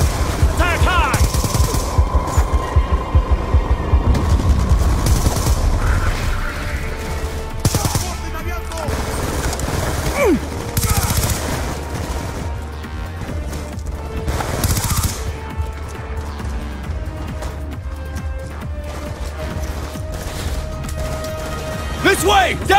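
Sustained gunfire in the shooter Call of Duty: Black Ops II, with dense machine-gun bursts and repeated shots continuing throughout, mixed with crashes, shouted voices and game music.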